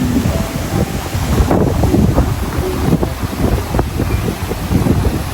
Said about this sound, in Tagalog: Ganyang kalakas yung alon